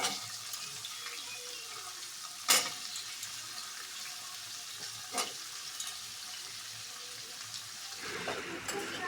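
Green chillies and sweet potato pieces frying in a pan give a steady soft sizzle throughout, with a couple of brief sharper clatters and a louder burst of bubbling near the end; no one speaks.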